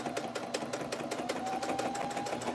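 A sewing machine stitches fabric seams at a steady, rapid rhythm, its needle chatter running continuously and fairly close without pause.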